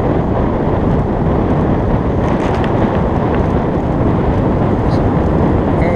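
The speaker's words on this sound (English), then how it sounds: "I think the wind has dropped off a little." Strong wind buffets the microphone on Klipsan Beach while blokart sailing, a loud continuous roar and rush with no break, a voice talking now and then under it.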